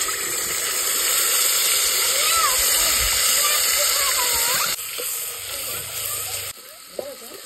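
A paste of ginger, garlic and coriander hits hot oil on a wood-fired clay stove, giving a loud, steady hiss and sizzle that later drops in level, with brief clatter near the end.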